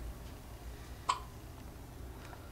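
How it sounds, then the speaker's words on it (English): A young girl in her bedroom gives a single short, sharp hiccup, close but quiet, against a soft steady background hiss. "She has the hiccups."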